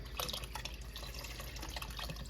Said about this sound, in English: I'm also gonna add in about half of a container of water.